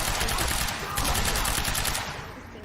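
Dense, continuous video-game gunfire rattles in a rapid barrage during a firefight in the Riverport Industrial Zone, loud and close before easing slightly toward the end.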